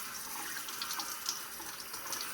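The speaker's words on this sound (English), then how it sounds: "So I'm just going to lightly rinse it off." Water from a tap pours steadily and rinses a rusty metal dump can, a continuous splashing and trickling close by with no talking.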